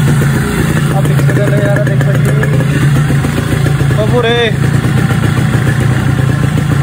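A Yamaha RX135 motorcycle runs while partly submerged in water, its engine droning steadily and loudly with uneven revving throughout, as people shout and talk over it close by.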